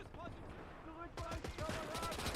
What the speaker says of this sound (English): Enemy artillery is about to fire on the crosshair location.